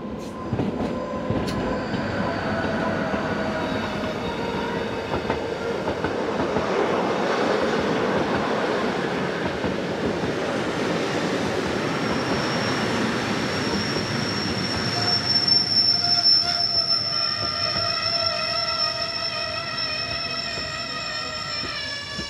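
Swiss locomotive-hauled passenger train, the 0758 service from Chur to St. Moritz headed by locomotive 646, arriving at a station with loud, sustained high-pitched wheel squeal rising over a rumbling rolling train, no talk.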